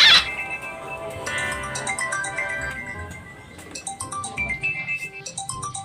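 A mobile phone rings with a melodic electronic ringtone that plays continuously, with shifting tonal notes at moderate loudness and nobody speaking over it.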